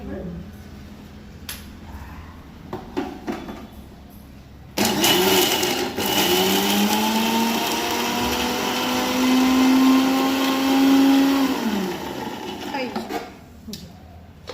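A home mixer grinder whirs loudly as it grinds cashews, garlic, ginger and green chilies, its motor starting abruptly and running several seconds before winding down, with quieter handling clatter before and after.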